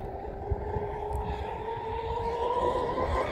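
A Proboat UL-19 RC boat, upgraded, runs at full throttle on water, giving a steady, sustained high-pitched motor whine with a constant tone over a continuous rushing noise throughout.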